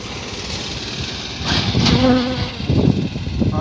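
Dense, droning buzz of many honey bees swarming close by at an open hive, rising and falling in intensity, with a few scraping knocks in the middle.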